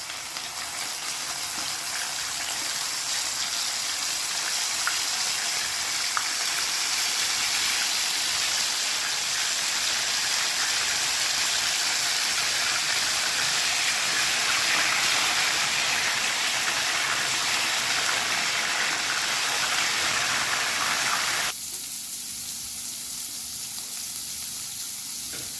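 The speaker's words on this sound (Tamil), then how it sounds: "இதில் மஷ்ரூமை கொஞ்சம் ஃப்ரை பண்ணி எடுத்துக்கலாம்" Mushrooms fry in hot oil in a kadai, making a dense, continuous close sizzle that holds steady and then suddenly drops quieter near the end.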